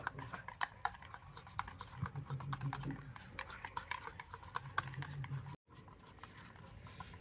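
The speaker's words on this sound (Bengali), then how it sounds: "ফুড কালার দিয়ে আবারও ব্যাটারটাকে একটু ভালো করে ফেটিয়ে নেব" Green food colour being whisked into pitha batter for raw-mango poa pitha: quiet, quick rhythmic scraping and stirring against a bowl, continuing with a brief break near the end.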